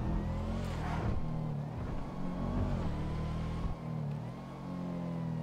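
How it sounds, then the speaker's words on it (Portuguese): Car engine in GTA V revving and pulling along asphalt, a steady layered drone with shifting pitch that dips briefly near the end, moderately loud with no speech. "Vamos acelerar ele um pouquinho aqui."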